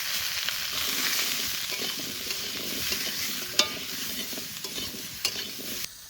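Potatoes and pumpkin with green chillies, salt and turmeric fry in a pan, giving a loud, continuous close sizzle with a few sharp scrapes and clicks of stirring.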